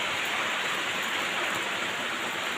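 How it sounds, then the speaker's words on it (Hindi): Heavy rain pours down suddenly outdoors at a home, a dense, loud, steady hiss of drops striking surfaces with no voices. "इतनी तेज़ी से एकदम से बारिश होने लगी है"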